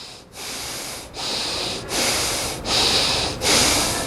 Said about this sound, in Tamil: ஒரு மூன்று முறை நன்றாக மூச்சை உள்ளெழுத்து மூச்சை வெளியே விடுங்க